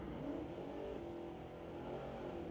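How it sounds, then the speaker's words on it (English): A VLT Mustang drag car in the Sport Compact class launching at Mission Raceway Park on a street-legal night, its engine roaring steadily at moderate distance, mid-pitched and continuous for a couple of seconds. "Josh M running out with that VLT Mustang"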